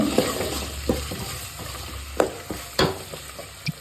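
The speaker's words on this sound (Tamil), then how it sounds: "பூண்டு நல்லா வதங்கி கோல்டன் ப்ரௌன் கலர் வரணும்." Garlic sautéing in sesame oil for a wedding-style Karaikudi kuzhambu, a soft steady sizzle broken by sharp scrapes and clinks of a spoon stirring the pan at irregular intervals, close and without talk.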